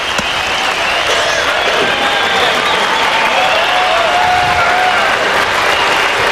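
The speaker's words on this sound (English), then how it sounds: "Plenty of acknowledgement there from the crowd" Cricket crowd at a 1999 West Indies test applauding Steve Waugh's 150, a steady wash of clapping and cheering from a large distant crowd throughout, with a commentator's voice faintly over it.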